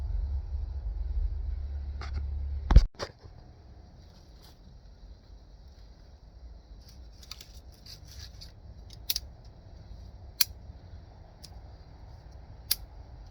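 Dry firewood twigs snapping beside a river as a campfire is started: one loud close crack, then sparse sharp pops and ticks spaced several seconds apart over a quiet outdoor background.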